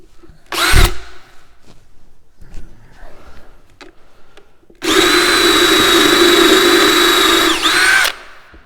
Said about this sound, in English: just drill a hole right about here